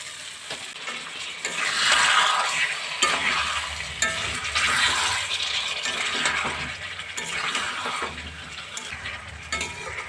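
Fried eggs and potatoes being stirred into a spice masala in a pan, a dense continuous sizzle with swelling bursts and occasional metallic clinks of a spoon against the pan, no voices.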